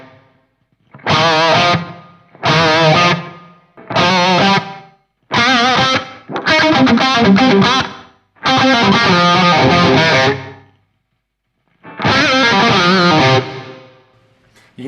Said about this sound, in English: If I use the Hall algorithm for the same thing, you get this.